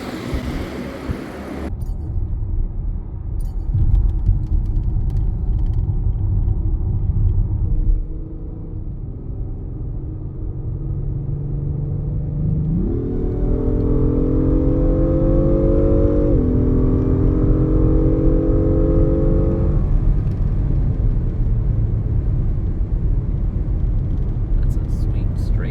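A 2025 Acura MDX Type S SUV drives on the road, its low engine rumble steady inside the cabin, rising in pitch as it accelerates through gears partway through, with talk over it.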